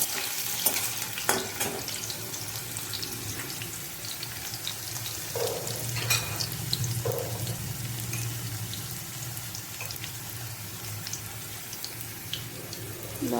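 Cut potatoes fry in a pan for a taro and chickpea vegetable dish, a steady close sizzle under repeated scraping and stirring strokes with a few clinks of the utensil; no speech.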